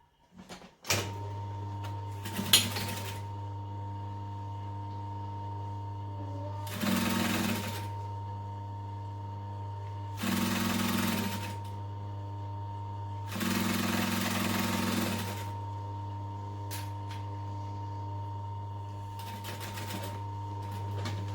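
A sewing machine stitches a duffel bag in several separate bursts of a few seconds each, with pauses between runs and a steady low hum running underneath throughout.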